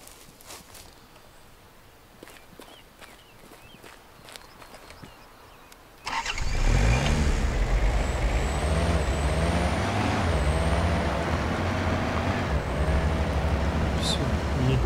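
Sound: vehicle engine starting and driving, from a video game

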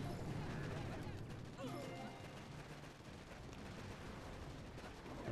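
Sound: artillery barrage firing in the video game Boom Beach

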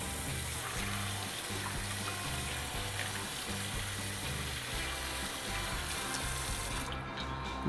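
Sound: rinsing a blue crab under the kitchen sink tap

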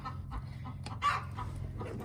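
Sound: hen clucking

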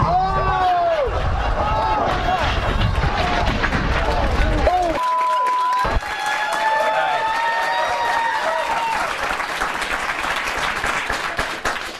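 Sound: studio audience clapping

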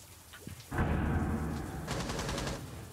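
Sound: gunfire in the video game Rainbow Six Siege

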